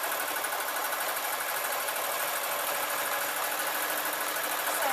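A sewing machine stitches a maxi dress in a steady, fairly quiet mechanical whir with a rapid regular needle rhythm running throughout, with no talking.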